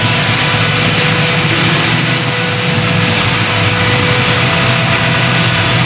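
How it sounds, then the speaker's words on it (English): A deep LS-swapped V8 engine in a Chevy Nova rumbles at a steady idle, continuous and loud, with no voices over it. "it's cool to hear it already idling"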